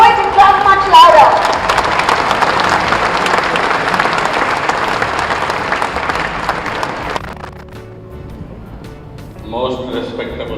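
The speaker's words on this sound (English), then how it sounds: "And when you're happy and you know it, you clap much louder." A large summit audience applauds loudly for about seven seconds in a dense, sustained wash of clapping that then fades out, followed by a voice speaking over a public address system.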